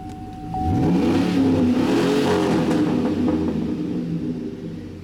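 A lifted 2007 Chevy Silverado 4x4 pickup with dual exhaust starts and revs up with a deep throaty exhaust rumble, close and loud, then settles into a steady idle.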